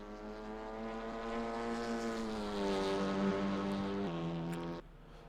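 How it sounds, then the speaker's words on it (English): A WTCR touring race car engine in the RaceRoom racing game drones loudly at steady revs with a buzzing, rattling edge, climbing slightly before dropping in two quick steps as the car shifts. "Bit of a noisy rattle this car makes, isn't it?"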